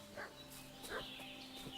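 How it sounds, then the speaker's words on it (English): A dog named Mutt barking in the game Kingdom Come: Deliverance II, a few faint, distant barks spaced irregularly over a quiet ambient background. "What's that dog making such a fuss about?"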